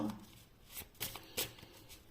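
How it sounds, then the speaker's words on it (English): Tarot cards being shuffled by hand, soft riffling swishes in a few short bursts, close but faint, with no talk. "So I'm gonna shuffle again."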